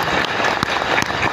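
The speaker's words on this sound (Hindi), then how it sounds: "एक बार ऐसे गुरु के लिए जोरदार जबरदस्त खतरनाक ताली चाहूंगा सर।" Audience at an RCM seminar in India claps loudly for a guest speaker, a dense burst of applause filling the short moment.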